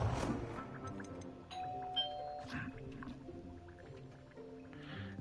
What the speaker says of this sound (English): If you heard the doorbell,